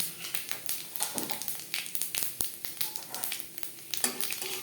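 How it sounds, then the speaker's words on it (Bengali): Panch phoron spices frying in oil left from frying fish, a steady close crackling sizzle with irregular popping and spitting bursts and faint stirring scrapes throughout, no talking. "মাছ ভেজে নেওয়া তেলে ফোড়নে দিয়ে দেবো পাঁচ ফোড়ন"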